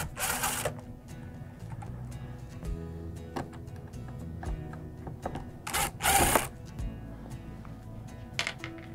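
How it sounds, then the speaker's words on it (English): Screws are driven out of a Coleman-Mach air conditioner with a power screwdriver or drill, giving short whirring bursts, clicks and metallic rattles at close range, separated by quieter handling noises. "first we'll take out the screws on the inside here, saving our screws for later."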